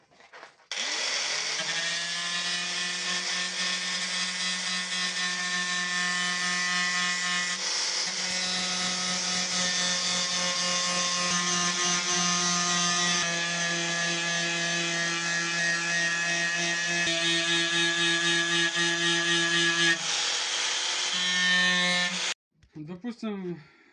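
A rusty metal part is being sawn, giving a continuous droning, whining tone that holds for about twenty seconds with slight pitch shifts, then cuts off and briefly resumes.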